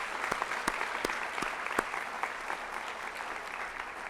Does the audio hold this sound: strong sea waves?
no